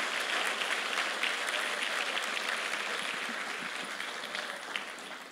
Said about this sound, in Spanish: a quien lo recibimos con un fuerte aplauso